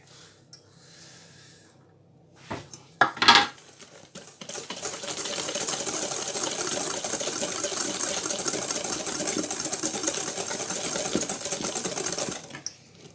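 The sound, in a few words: mixing cake batter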